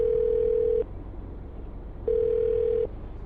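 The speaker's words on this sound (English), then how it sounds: "I'm going to dial her phone number right now" A telephone line gives two long, steady ringback tones with a pause between them, loud and close, while a phone number is being called, and no voices are heard.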